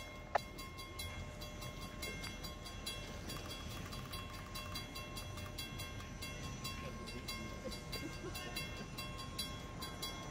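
Locomotive PNLX 57 pushes a set of railroad cars onto the main line: a low, steady rolling rumble heard from a distance, with faint sustained squealing tones and a single sharp click near the start.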